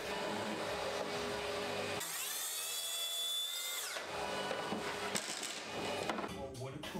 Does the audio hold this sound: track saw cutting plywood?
yes